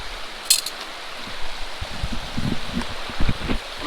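Gravel and clay material poured during gold prospecting in the East Fork of the San Gabriel Valley makes a close, continuous patter and rattle with small clinks, and a sharper click comes early on.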